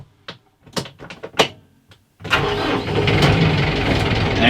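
A few clunks and clicks, then a tractor engine cranks and catches, settling into a loud, steady rumbling idle close by.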